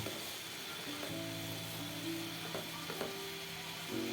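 Shrimp with coriander leaves, green chilies and onion fries quietly in a pan in a small kitchen, a soft sizzle with occasional stirring taps and scrapes and a few faint tonal clinks.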